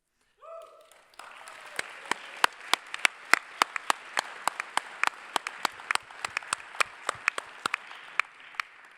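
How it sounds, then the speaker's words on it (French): An audience at a weekend amateur competition claps for the event sponsors: a sparse, moderately distant patter of individual sharp claps that continues steadily after a brief opening sound. "Ça mérite effectivement de bons applaudissements"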